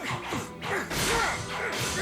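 Glass and china smashing during an anime fight scene in a living room, with quick crashes and whooshing blows tumbling over one another, loud and close, with no talk over it.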